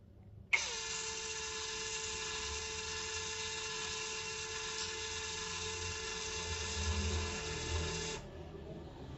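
A cordless drill/screwdriver set to speed 1 whines steadily at half trigger, switching on sharply and holding an even motor pitch for about eight seconds before cutting off, close and clear over faint background noise.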